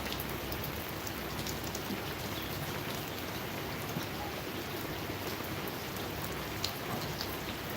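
Steady rain pours down on surfaces in an even, dense hiss that never lets up, with scattered sharper drops pattering close by.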